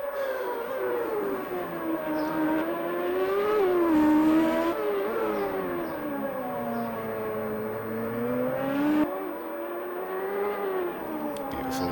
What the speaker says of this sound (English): So like I'm in the Reynard, there's the Reynard Mercedes power behind as well.